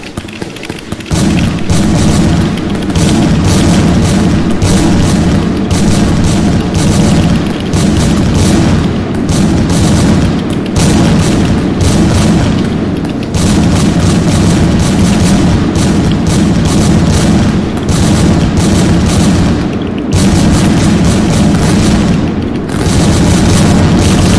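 Happy Salute fireworks in the game Pyroworks firing in a rapid, relentless stream of loud booming bursts and crackling reports, dense and continuous for the whole stretch with no talking.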